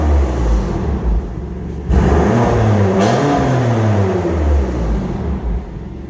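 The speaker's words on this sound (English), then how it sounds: "I'll just give you this a little rev in normal mode" A 2019 BMW M2 Competition with a 3.0-litre twin-turbo petrol engine and DCT gearbox revs in normal mode: a steady close idle rumble, then a sharp rise at about two seconds into a rev that climbs and falls before settling back.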